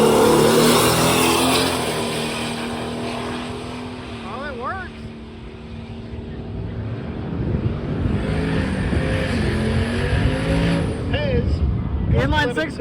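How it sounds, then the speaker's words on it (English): Turbocharged 300 cubic inch Ford inline-six revving loudly at close range, with a steady engine drone that swells and surges, while people talk over it. "A 300 cubic inch inline 6 out of a Ford."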